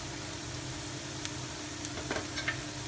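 Curry with turmeric and thyme stirred in a hot pan, a constant sizzling hiss with a few light scraping and tapping sounds from the spoon.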